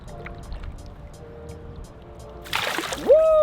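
A pike being released back into the St. Lawrence River makes a brief, close splash and churn of water near the end, following a quieter stretch of faint water ambience with a soft tonal hum.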